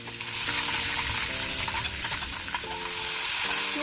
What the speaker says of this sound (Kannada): ಅದಾದಮೇಲೆ ಈ ರೀತಿ ಒಗ್ಗರಣೆಗೆ ಹಾಕಿ ಇದನ್ನು ಸ್ವಲ್ಪ ತಾಳಿಸ್ಕೋಬೇಕು.